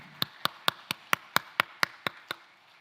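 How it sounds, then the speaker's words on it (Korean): A church congregation at a Sunday worship service claps in unison, about ten crisp, evenly spaced beats in a steady rhythm, each one distinct and fairly close. "영광의 박수 올려드리겠습니다"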